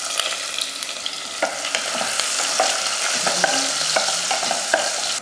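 Onion sautés in oil with fennel, bay leaf, clove, cardamom and cinnamon for an idli kurma, giving a continuous close sizzle broken by repeated sharp spatula scrapes and clicks.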